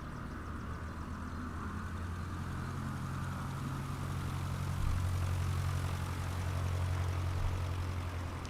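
Steady propeller drone of a Cessna 152 single-engine light plane in Microsoft Flight Simulator 2020, a continuous low engine hum with a slight swell in pitch midway, heard alone without voices.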